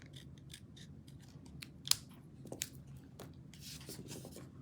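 Scissors snipping the edges off a small watercolor-washed, stamped paper tag shaped like a ticket during a paper-craft project, several quiet close cuts over a low background hum.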